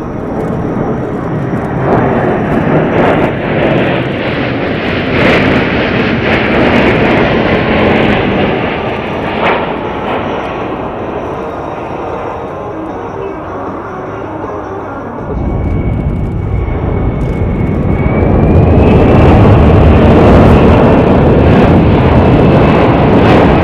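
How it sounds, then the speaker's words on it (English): A Boeing C-17 Globemaster III at an air show roars steadily, loud and broad, with a deep engine rumble swelling in the second half and a whining tone rising near the end. "the Boeing C-17 Globemaster III"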